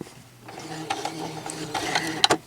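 A sewing machine straight-stitches through felt for a gift bag, a quiet mechanical whirring that starts softly and builds with small ticks and clicks, close by and without talk.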